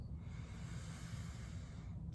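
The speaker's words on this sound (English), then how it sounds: "breathing together in through your nose" A slow, quiet inhale through the nose at the close of a yoga class, a soft airy hiss lasting about two seconds, close and alone with no talking.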